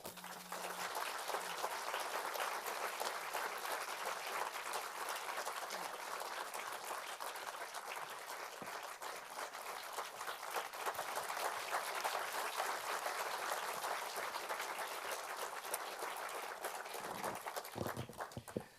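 An indoor forum audience applauds steadily, welcoming the speaker Ian Masters. The dense clapping holds at an even level for about eighteen seconds, then thins out at the very end.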